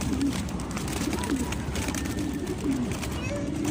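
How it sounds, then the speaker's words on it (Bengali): Racing pigeons released beside a highway, with repeated soft cooing and a flutter of wings over steady outdoor background noise and traffic rumble. "কবুতরগুলো ছাড়ছি"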